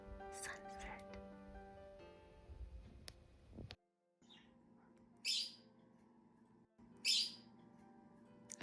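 Pet birds waking at sunrise on a lakeside vacation, chirping and calling in a few sharp bursts between quieter stretches, with a person talking and soft background sounds underneath.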